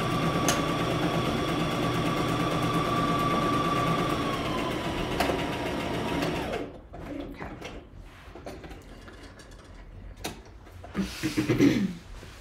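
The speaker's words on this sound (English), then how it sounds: "And then we're going to continue sewing the" A sewing machine stitches a facing onto a dress, its motor whirring in a steady run for about six seconds, then stopping; scattered handling clicks and fabric rustling follow.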